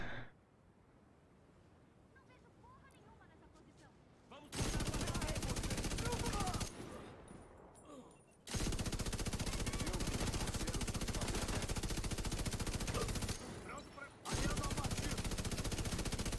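Light machine gun fire in The Division 2 comes in long, loud, unbroken automatic bursts with brief pauses between them, and a voice talks during the quieter stretch before the shooting.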